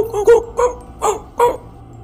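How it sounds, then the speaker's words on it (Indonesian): A dog at night near a dark oil-palm plantation in Kalimantan, giving four or five short, loud barks or yips in an uneven rhythm, close by. "Si anjing menggonggong keras ke arah kami."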